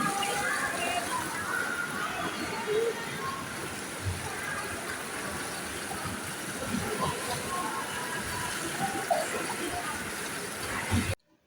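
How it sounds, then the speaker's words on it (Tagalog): People jump and splash in an indoor swimming pool in Switzerland, a continuous sloshing and splashing wash of water with faint voices mixed in, steady and fairly close throughout. "talunan na sila ng talunan dyan kaagad."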